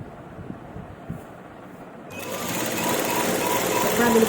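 Sewing machine stitching a straight seam on a kameez, quiet at first under a voice, then a steady whirring run that grows louder and continues to the end.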